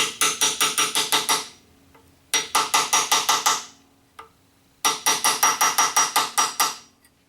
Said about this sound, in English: I'm just going to bend these little tabs back down so that the bolts will not come loose